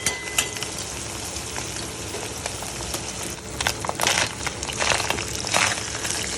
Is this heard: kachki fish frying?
yes